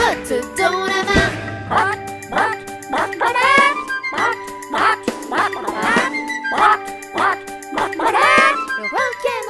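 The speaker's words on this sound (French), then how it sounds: "Il y a même des canards qui barbotent dans la main." Ducks quacking in a French children's farmyard song, repeated rhythmic quacks set into bright music with chimes and a steady beat, loud and close throughout.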